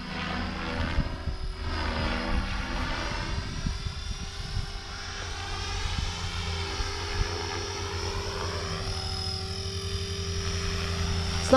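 A Blade 500 RC helicopter flies inverted overhead, its rotor and motor holding a steady, loud whine with a constant tone and slight swells throughout, with no talking.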